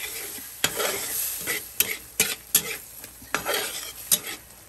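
Mung beans stirred in a hot frying pan: repeated scraping strokes against the metal over a steady sizzle, close and fairly quiet, with no voices.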